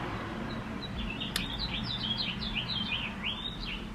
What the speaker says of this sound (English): the birds are just singing and singing and singing